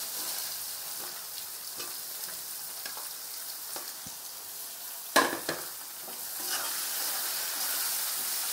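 Chopped onion frying in hot oil for chicken biryani, a close, steady sizzle broken by scraping stirs and a sharp clatter near the middle, after which the hissing swells again, with no voices.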